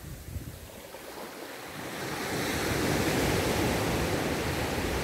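Surf rolling onto the sand at Bayswaters Beach on a clear day, a steady broad wash of breaking waves that swells louder and fuller partway through, with wind buffeting the microphone and no voices.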